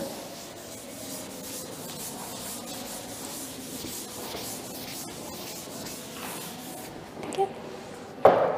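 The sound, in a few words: rubbing out writing on a board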